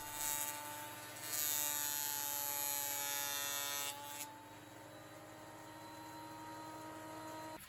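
Power saw slicing thin veneer from a 12-inch wide wooden board, a loud, high, steady whine with a brighter cutting roar for a couple of seconds, then the motor running on more quietly.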